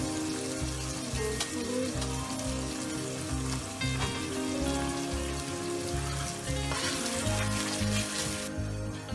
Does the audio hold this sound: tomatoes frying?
yes